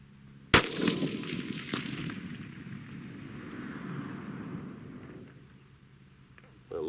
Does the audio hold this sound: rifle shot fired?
yes